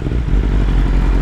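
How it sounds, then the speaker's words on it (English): A motorcycle engine runs close by in a steady, low, dense rumble with no clear revving, held at an even level for the whole brief stretch. "I'm still in love with how this bike sounds."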